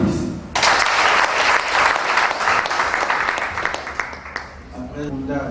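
Wedding guests break into loud, sustained applause that starts abruptly after a brief pause and rolls on steadily, thinning slightly toward the end as a voice begins to speak over it.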